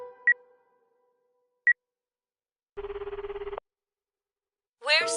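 A video game phone call rings out: two brief chirps, then a pulsing electronic ring tone for under a second, followed by a rising synthetic blip, all on a quiet background.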